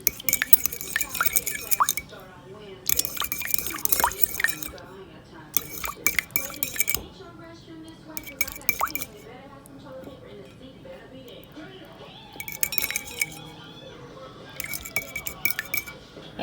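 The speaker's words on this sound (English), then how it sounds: "next we're gonna go ahead and just mix this up." Whole milk is stirred into a sauce in a kitchen, with repeated light clinks of a utensil against a glass or metal bowl in bursts and soft liquid sounds, while someone talks throughout.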